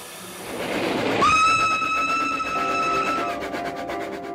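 Locomotive running on rails, a rolling rumble joined partway through by a sustained multi-tone horn blast that holds steady and then fades, moderately loud with no talk.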